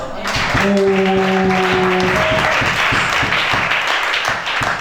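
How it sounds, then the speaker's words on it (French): Congregation at a Christian prayer and deliverance service applauding together in steady, loud, continuous clapping that fills the room, with sustained voices or tones underneath. "Acclamez chacun."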